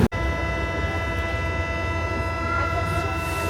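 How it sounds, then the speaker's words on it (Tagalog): A train pulls into a station in Paris, its loud sustained tonal whine and rumble filling the platform after a sharp opening thud, with no clear talking. "Ito na yung train namin."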